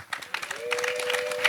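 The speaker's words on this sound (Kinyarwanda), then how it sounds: "Amashyi menshi." A crowd of parents and guests claps at a school event, a dense burst of rhythmic hand applause with voices mixed in and a steady tone sounding beneath it.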